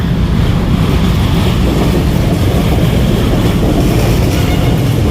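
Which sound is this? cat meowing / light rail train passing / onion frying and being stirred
light rail train passing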